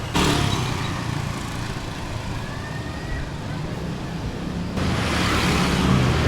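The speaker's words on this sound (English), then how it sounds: "All this traffic that comes through." Motorbike and car traffic rushes through a narrow alley in Jakarta lined with small food and drink stalls, a steady, close engine roar with a faint siren-like whine in the middle and a louder surge of passing vehicles near the end.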